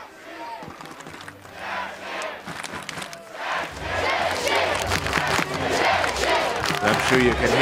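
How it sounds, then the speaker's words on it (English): Spectators in the stands at a Battle of the Nations medieval combat tournament in Prague chant and roar, the rhythmic crowd voices building louder and fuller partway through and staying strong to the end. "I'm sure you can hear the chants coming here from the crowd in the stands."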